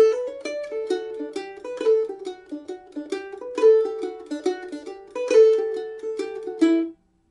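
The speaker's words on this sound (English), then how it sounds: "So back to the top of the tune, but instead this time we'll add the grace notes." A mandolin plays a phrase of Fisher's Hornpipe with grace notes, a quick run of bright plucked notes in a steady dance rhythm, close and clear with no talking, stopping cleanly near the end.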